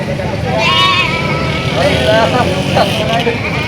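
Goats at a crowded livestock market bleat in wavering cries, several calls overlapping. Loud talk and distant traffic run underneath.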